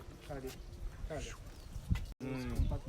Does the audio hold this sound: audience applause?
no